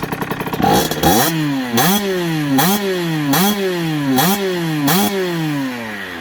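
An AM6 moped engine fitted with an Italkit 50cc/70cc kit, heard up close and loud, gives six quick throttle blips. Each one buzzes upward and then drops back to a steady idle.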